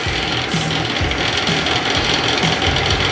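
Sandpaper held behind a block and pressed lightly during sanding gives a continuous near scratchy rasp with a regular pulsing beat about every half second, steady in level throughout, with no voices.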